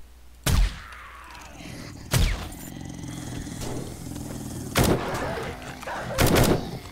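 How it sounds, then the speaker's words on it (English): Silenced sniper rifle fire in a video game: four sharp, heavy muffled thumps spaced a second or two apart over a continuous low game ambience, no talking. "the sniper rifle with a silencer works"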